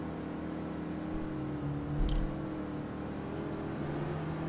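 Motocross motorcycle engine in GTA V, a steady droning hum that swells briefly as the bike passes, then settles back to a constant engine tone.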